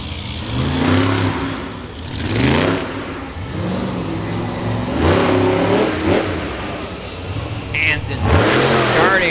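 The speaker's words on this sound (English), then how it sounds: "The heavy pit truck just sounds. Listen to the exhaust note on that truck." Monster truck engines roar at a state fair dirt arena, the exhaust surging in repeated loud revs and throttle blips as the truck launches, with an announcer talking over it.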